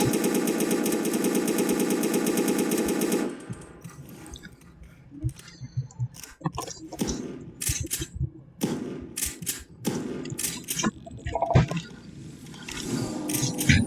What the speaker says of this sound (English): let's go to the power box and just shoot it